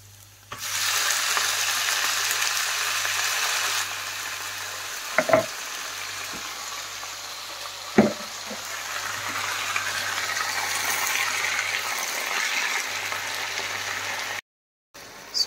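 Garlic, onion and bay leaves sauté in a pan for mushroom adobo, giving a steady close sizzle with a couple of sharp utensil clicks partway through.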